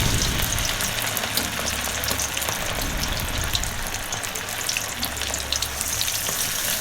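Fish pieces frying in oil in a kadhai for a Lahori fish fry, a dense, loud, continuous sizzle and crackle close up, with no talking.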